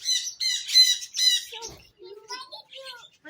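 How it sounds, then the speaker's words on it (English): Several parrots squawk and chatter nearby in a rapid burst of harsh calls, followed by softer scattered chirps, with no clear talk over them. "Oh, they're all over there. Look at all those parrots."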